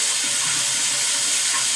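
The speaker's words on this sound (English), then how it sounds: "the water is actually moving through this pretty quickly, and it's flushing all the excess salt out of the system" Water rushes steadily through the resin tank of a home water softener as it flushes, a loud continuous hiss with no breaks.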